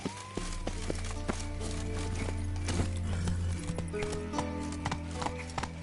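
Roach, the horse in the video game The Witcher 3, gallops with rapid rhythmic hoofbeats over a continuous game backdrop of low hum and ambient tones, close and steady throughout.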